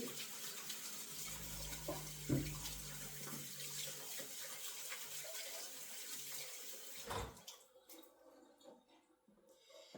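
Tap water runs steadily into a sink as hands are washed during soap making, a broad hiss with splashes that cuts off sharply near the end, leaving a quiet room.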